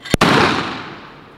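A sulfur-potash powder Diwali gadget explodes when struck: a single sharp, loud blast with a sudden crack, followed by a long rumbling decay that fades over about a second.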